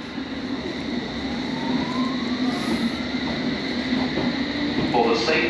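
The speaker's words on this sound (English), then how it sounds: "This train's for Ealing Broadway." A London Underground train sits at Whitechapel station with a steady rumbling hum and a faint rising whine, while a station announcement plays over the platform.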